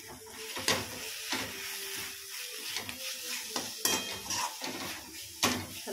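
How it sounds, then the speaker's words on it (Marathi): A spoon stirring dodi flower vegetable curry in a pot, with repeated scraping and clinking strokes against the metal and a soft sizzle beneath, close and moderately loud. "हलवून घेऊया चांगले."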